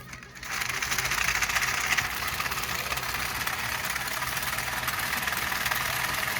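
A 3D printed Newman motor assembled from several screwed-together pieces runs steadily, giving a continuous buzzing, whirring hum with a rapid fine pulse, close up and without talk.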